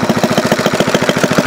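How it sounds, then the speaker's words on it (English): A homemade hit-and-miss engine built from a Briggs runs close by with a fast, steady chugging of evenly spaced firing pulses and no pauses. "Got a good engine to run, something we could start working with"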